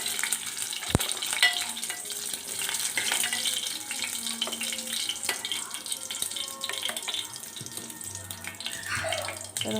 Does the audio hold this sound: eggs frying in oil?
yes